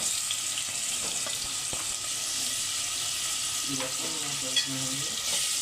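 Onions, green chillies and tomatoes fry in a pan for mutton drumstick curry, giving a steady low sizzle throughout with a few soft stirring clinks, close and moderately quiet with no talk.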